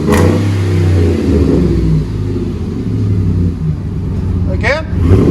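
Deep idle rumble of a 2010 RAM 1500 4x4 with 5.7L HEMI V8, dual exhaust, 18-inch DTM muffler and 4-inch tips, rising in short revs and settling back, close and loud, with voices talking over it.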